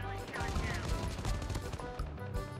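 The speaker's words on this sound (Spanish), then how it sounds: "me dispara, me dispara" Gunfire in the mobile shooter game COD Mobile, aimed at the player, sounds as a rapid burst of close shots with a faint voice underneath.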